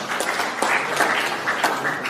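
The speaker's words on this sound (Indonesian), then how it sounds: "Tepuk tangan untuk Pansus Trap." Applause for the Pansus TRAP team at a Bali provincial government event: a steady crowd clapping filling the whole moment, dense and moderately loud, with no voices over it.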